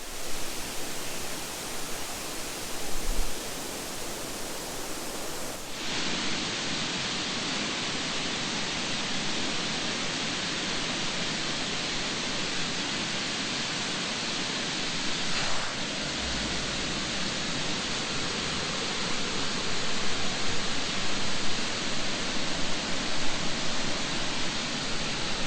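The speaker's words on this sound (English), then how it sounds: "double tiered waterfall." Minneopa Falls, a double-tiered waterfall, roars as a steady broadband rush of falling water. The sound stays constant and fairly loud throughout, with no voices.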